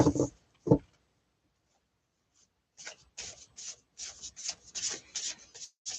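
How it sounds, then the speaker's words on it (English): Tarot cards are shuffled by hand in soft, rapid rubbing bursts: two brief riffles at the start, a silent pause, then a steadier run of papery scraping. "And I'm shuffling the cards the backwards way."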